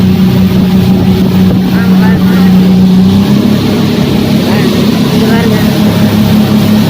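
A tourist speedboat races across open sea off Muscat, Oman, its engine roaring loudly and steadily up close with wind and water rush throughout, and people talking over it.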